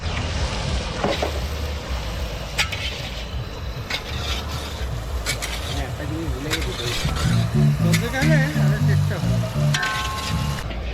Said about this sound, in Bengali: এখন মশলাটা এখন কষানো হচ্ছে